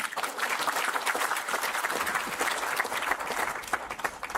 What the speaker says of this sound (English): So I think you should clap for yourself now.